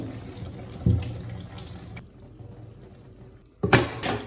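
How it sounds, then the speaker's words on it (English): Cooked spaghetti and its water are poured through a colander into a kitchen sink, giving a rushing splash that fades into a quieter trickle before a sharp clatter near the end. "So I'm going to go ahead and use a colander and drain it off."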